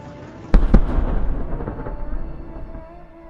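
A Russian 122mm MLRS on a Kamaz 535 chassis blowing up after a GMLRS missile strike: two sharp booming blasts, then a long rolling rumble of crackling secondary explosions that gradually fades.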